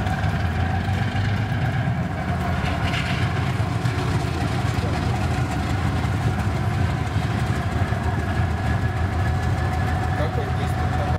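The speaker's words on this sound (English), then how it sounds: "The video shows the diesel starting up." A Soviet TE-10 diesel locomotive with a 10-cylinder, 3,000-horsepower engine runs with a steady, loud low rumble and rattle as it starts up, unbroken throughout with no talking.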